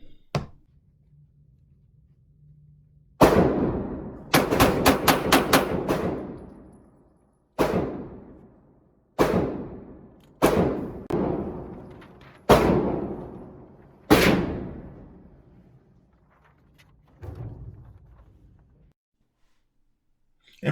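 A Glock 19 Gen 4 pistol fires six rounds in rapid succession at a shooting range, with sharp, loud cracks, each one followed by a ringing decay, and a few more spaced shots afterward.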